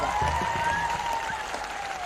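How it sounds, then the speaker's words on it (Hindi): Crowd applauding to honour the army at a military fair in Bhopal, steady clapping heard moderately loud with a sustained tone and faint voices beneath it. "ताली बजा के अपनी सेना को सम्मान दो।"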